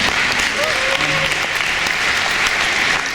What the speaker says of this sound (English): everybody else on the stage deserves a round of applause as well